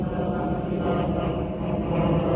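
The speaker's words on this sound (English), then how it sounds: "Doesn't that airplane know I'm trying to record right now?" A small airplane drones steadily overhead in the sky above Nashville, a continuous low engine rumble that holds at an even, fairly loud level throughout with no talking.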